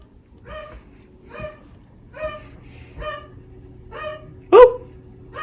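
A pet bird indoors in a house gives a series of about six evenly spaced, moderately loud harmonic calls, ending with a sharper, louder squawk.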